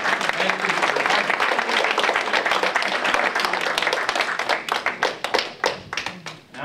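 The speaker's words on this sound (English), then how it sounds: "So let's give them a nice round of applause." An audience at a graduation ceremony claps warmly for board members of a county developmental disabilities board. The dense applause thins into scattered individual claps near the end.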